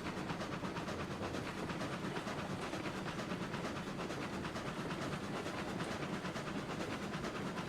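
A train rolls through a yard in the video game RailRoads Online, giving a dense, continuous rush of wheel noise and hiss at an even level, with no talking.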